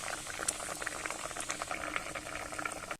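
Water boils in a pot of curry with fritters (bora) and pointed gourd. A busy, close bubbling and popping continues steadily throughout with no voices, then stops abruptly.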